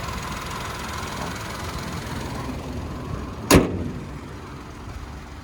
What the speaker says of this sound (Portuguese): O motorzinho vibra bastante, né? Que é 3 cilindros, então ele tem a vibração quando está parado.